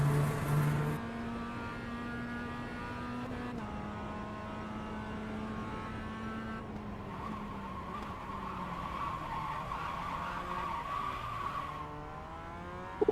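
A Porsche Cup race car in iRacing at Oulton Park spins out, its engine note wavering and dropping while tires squeal and skid steadily across the surface, loud and close with no talking.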